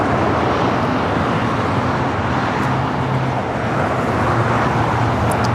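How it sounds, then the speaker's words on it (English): A Delta Airlines Airbus A320 departing LAX for Las Vegas fills the air with a loud, continuous jet roar. The broadband rumble stays steady throughout, with no voices. "It's Delta Airlines flight 2021 heading to Vegas in the A320."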